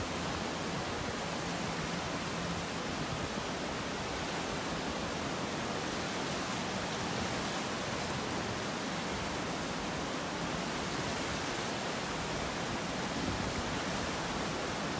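A flooded creek near the San Gabriel River rushes at high water, giving a dense, unbroken roar of churning water at constant loudness, with no voices.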